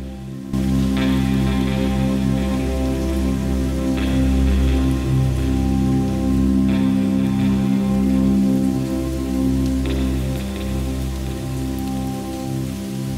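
Steady rain falling at Jogeshwari Caves, a dense, close, continuous patter that holds loud and even throughout, with no voices.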